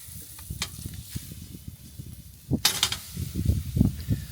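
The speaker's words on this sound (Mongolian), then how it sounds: "За өгч эхэлж шарж эхэлж байна уу? Шүү сайхан шараад өгнө." A mutton back roasting over embers gives soft crackling and low rumbling, with a louder burst of hissing crackle about halfway, then uneven thumps and pops.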